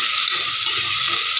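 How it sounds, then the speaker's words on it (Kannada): Chopped onions fry and sizzle steadily in a hot pan while being stirred for mint pulao. The hiss is loud and close, with continuous scraping and no talking. "ಇವಾಗ ಕಟ್ ಮಾಡಿಟ್ಟಿರುವ ಈರುಳ್ಳಿ ಹಾಕ್ಕೊಳ್ಳೋಣ. ಚೆನ್ನಾಗಿ ಮಿಕ್ಸ್ ಮಾಡ್ಕೊಳ್ಳೋಣ."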